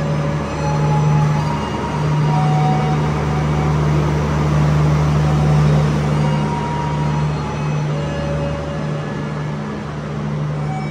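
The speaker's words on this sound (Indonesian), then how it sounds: "Kereta api Kamandaka sudah diberangkatkan" Kamandaka passenger train pulling out of a station in southern Java, giving a steady, loud rumble of rolling wagons with a low engine hum that holds throughout, with no voices.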